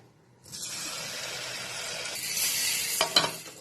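Rice batter for poda pitha hits hot oil and a steady, hissing sizzle takes over, growing louder toward the end with a few sharp crackles.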